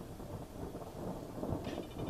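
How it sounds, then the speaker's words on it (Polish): Thunder rumbles during a snowfall, a faint, low, rolling boom from far off that lingers for a couple of seconds with no talk over it. "jeszcze kurwa piorun jebnął"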